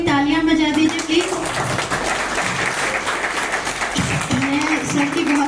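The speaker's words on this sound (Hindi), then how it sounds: "सर के लिए तालियां बजा दीजिए प्लीज" An audience at a psychologist's talk claps, a steady, fairly loud wash of applause running throughout, with a voice speaking over it near the start and again toward the end.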